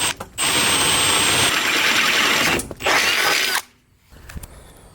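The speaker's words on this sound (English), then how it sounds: "drilling yet another hole in the bus" A loud, steady power drill whines continuously while boring a hole through the metal body of a 1978 VW bus, briefly stopping and restarting before cutting off, followed by faint clinks.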